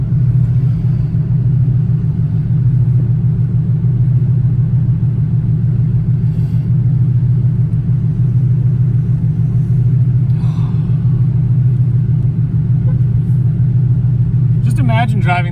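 A TVR S2 sports car with right-hand drive, engine rumbling steadily at a low pitch while cruising, loud and continuous from inside the car, with a voice talking over it.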